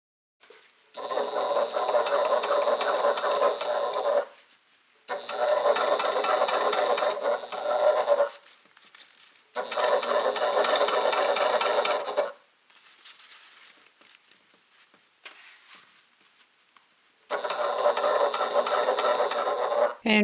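A sewing machine stitches a seam on a Simply Classic Talise bag, running in four steady bursts of a few seconds each with short quiet pauses between, close and clear with no talking.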